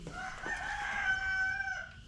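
A rooster crows once on a homestead, a clear, fairly close drawn-out call lasting nearly two seconds, with faint chicken clucking around it and no talking.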